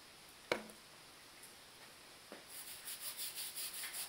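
A barbell being worked with 3-in-1 oil gives a sharp tap near the start, a fainter knock a bit later, then a soft, rhythmic rubbing that repeats close by and quietly to the end.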